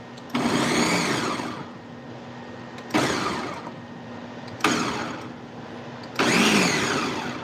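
A kitchen blender pulsing salsa ingredients including onion, four distinct whirring bursts of a second or so each, separated by short pauses with a low hum between them, close and fairly loud.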